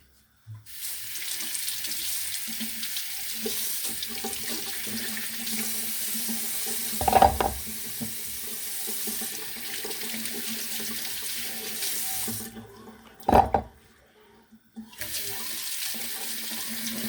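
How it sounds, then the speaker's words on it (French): Carrots held under a running kitchen tap, a steady close rush of water that changes briefly twice as the stream is interrupted, then stops near the end before flowing again. "on va passer à l'étape des carottes. Donc, que je vais passer sous l'eau"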